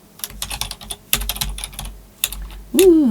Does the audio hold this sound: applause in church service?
no